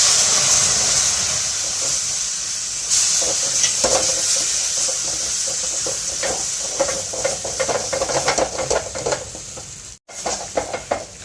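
Steady hissing sizzle of sattu flour cooking in a hot pan with hot water added, repeated scraping stirring strokes, growing busier toward the end, no voices.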